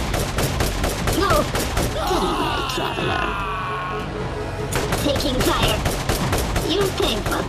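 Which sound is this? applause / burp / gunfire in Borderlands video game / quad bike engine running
gunfire in Borderlands video game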